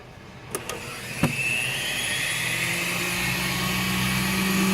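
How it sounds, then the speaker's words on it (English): A homemade blower built from salvaged vacuum cleaner electronics, with an on/off switch and an adjustable speed knob, spins up after a few clicks into a steady, close whirring drone with a high motor whine. "there's a knob inside here that I can slide to speed up or slow down the blower"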